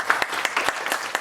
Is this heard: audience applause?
yes